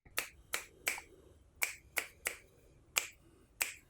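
Eight sharp hand claps near a keyboard that lights up in response to sound, each crisp and close, spaced irregularly about half a second apart over quiet background.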